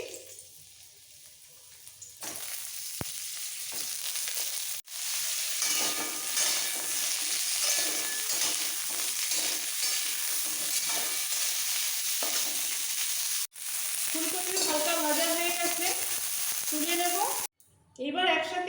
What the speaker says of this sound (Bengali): আলু ভাজা হয়ে গেছে আমি তুলে নিচ্ছি এবার দেব বয়েল ফুলকপি